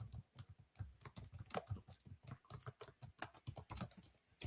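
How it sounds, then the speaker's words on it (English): Rapid, uneven typing on a computer keyboard, close and fairly quiet, with clustered clicks and short pauses between bursts of keystrokes. "I just really can't type this morning"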